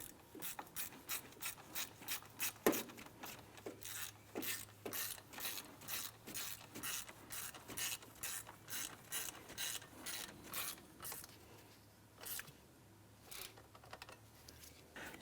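Rapid ratchet clicks snug down the crankshaft position sensor bolt on a 2001-2005 Honda Civic, sounding as close, steady bursts of sharp ticking with brief pauses, alone without talk.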